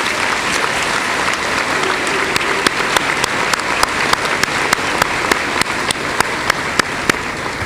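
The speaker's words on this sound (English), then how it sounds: "Please give all of these departmental award winners a big round of applause." A convocation audience applauds departmental award winners with sustained, even clapping, while one pair of hands nearby claps in a sharp, regular beat that stands out clearly above the steady crowd.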